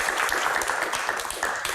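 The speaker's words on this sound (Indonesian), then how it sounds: "Tepuk tangan buat teman-teman." A studio audience of university students on a televised Q&A show gives brief, dense clapping, close and steady, heard alone.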